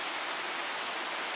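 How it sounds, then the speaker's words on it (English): Steady rain on a street on Khao San Road in Bangkok at night, a soft, even hiss of drops pattering on surfaces, continuous and fairly quiet with no voices. "Tonight, the rain adds its own soundtrack to the stories being written here."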